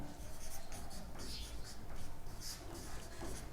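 Marker or chalk writing on a board during a Hindi-language Class 12 NCERT maths lesson, a steady scratchy stroking that runs continuously with a few sharper bursts, close up, with faint voice in the background.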